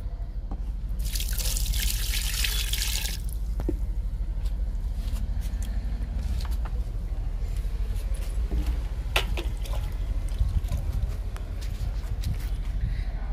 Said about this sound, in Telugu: అంజీరా మొక్కకి ఇస్తున్నా లిక్విడ్